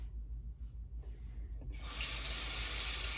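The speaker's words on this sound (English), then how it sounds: "I just let this run on hot water." Hot water runs steadily from a sink tap, a loud broadband rush that starts abruptly partway through after a quiet stretch with low hum, then continues evenly to the end.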